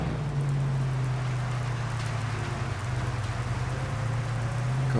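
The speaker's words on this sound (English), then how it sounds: "Got some heavy rain." Heavy rain in the video game The Days After Zero, a steady hissing downpour with a low constant hum beneath it, unbroken for the whole stretch.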